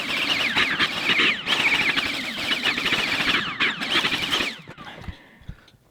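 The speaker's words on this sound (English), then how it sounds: "I'm just going to vacuum these bits of metal up" A vacuum cleaner sucks up scattered bits of metal from a workbench, a loud whine with rattling debris that cuts off near the end, leaving a few light clicks.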